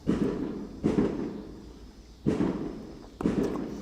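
Fourth of July fireworks going off at a distance: a few muffled booms and thuds, each with a short rumbling decay, spaced irregularly over quiet background noise.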